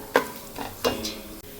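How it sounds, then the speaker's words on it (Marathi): Walnuts frying in ghee, a soft sizzle broken by a few scraping stirs of a spoon in the pan, close and quiet. "यामध्ये मी अक्रोड तळत आहे तुपामध्ये"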